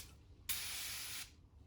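A single sustained burst of 80% alcohol disinfectant spray hisses close by for about three-quarters of a second, then cuts off into quiet room tone in a hotel quarantine room.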